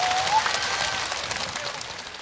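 A crowd at a Korean outdoor televised singing contest in Uljin claps for a composer being introduced, a fairly loud, even wash of applause with a brief whistle near the start.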